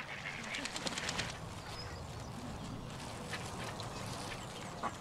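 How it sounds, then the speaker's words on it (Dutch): Many ducks quack near the water's edge as they are fed bread, a busy chorus of calls under steady outdoor background noise, with children's voices mixed in. "Er zijn heel veel eenden."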